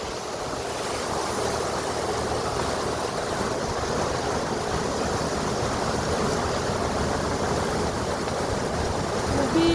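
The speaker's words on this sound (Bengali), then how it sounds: "খুবই বৃষ্টি হচ্ছে।" Heavy rain pours off a tin roof in gusty wind, a dense, continuous hiss and splatter that stays loud and even throughout, with no voices.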